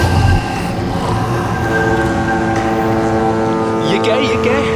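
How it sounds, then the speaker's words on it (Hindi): A ship gives off a deep, droning mechanical rumble with steady tonal hum layered beneath, continuous and fairly loud, while voices talk over it. "ये आवाज कहाँ से आ रही है? शायद कोई जहाज होगा।"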